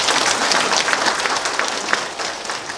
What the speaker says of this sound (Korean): 우리 격려 박수 한 번.